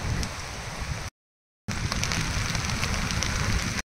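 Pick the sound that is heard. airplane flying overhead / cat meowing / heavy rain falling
heavy rain falling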